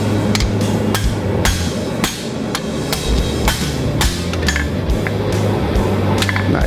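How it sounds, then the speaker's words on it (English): Hammer blows ring out on a wakizashi blade of unknown metal being forged, a dozen or so sharp strikes at an irregular pace over a steady shop hum, close and loud. "I'm gonna go back and smooth the forging out"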